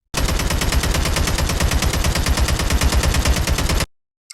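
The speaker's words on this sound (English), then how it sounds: "AK-47." AK-47 assault rifle firing a sustained fully automatic burst of rapid, evenly spaced loud shots for nearly four seconds, then stopping abruptly.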